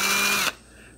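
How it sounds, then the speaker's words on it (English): Power drill with a 7/64 bit boring pilot holes for screws in a Jeep TJ center console subwoofer mount, a loud steady whine for half a second that then stops, leaving quiet. "you're just going to go all around for each of your four holes and drill pilot holes"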